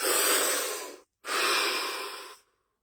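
Two long, deep breaths in close succession, each a full breathy rush of air lasting about a second, separated by a short pause during a calm relaxation exercise.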